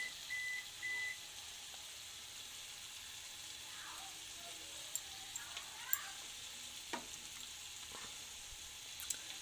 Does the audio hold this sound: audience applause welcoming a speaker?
no